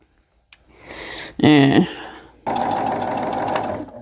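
A sewing machine finishes the seams of a dress, running in two short stretches with a rapid, even whir that is near and clear. A brief vocal sound comes between the runs.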